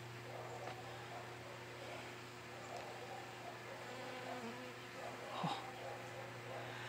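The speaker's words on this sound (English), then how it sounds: "So that little bee had a bunch of pollen on its legs." A bee buzzing near cosmos flowers in an autumn garden, a faint, continuous hum low in a quiet outdoor background, with one slightly louder pass near the end.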